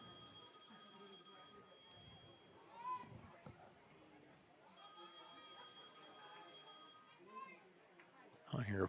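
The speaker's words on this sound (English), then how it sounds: "I hear a phone ringing somewhere." A phone rings in two bursts of trilling tones at a girls' soccer game, mid-distance and moderately clear over crowd murmur and talk.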